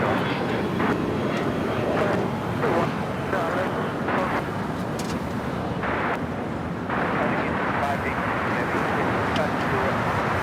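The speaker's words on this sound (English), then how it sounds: "Next, Korean Air Cargo 777 Freighter 25 right takeoff." A Korean Air Cargo Boeing 777 Freighter taking off from runway 25R at Los Angeles International Airport, a steady broad jet roar heard at a distance with an announcer talking over it.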